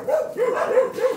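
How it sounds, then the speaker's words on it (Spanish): A dog barks four quick times in a steady rhythm, close and loud. "Yo por eso no tengo chuchos en mi caja porque me cae mal, es el ladrerillo que les agarra"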